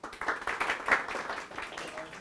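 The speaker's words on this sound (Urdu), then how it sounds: "تالیاں" A classroom audience gives a short burst of applause, several pairs of hands clapping unevenly at close range for about two seconds, moderately loud.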